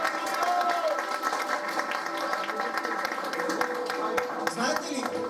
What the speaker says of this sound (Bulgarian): дайте малко ръкопляскане за тези младеж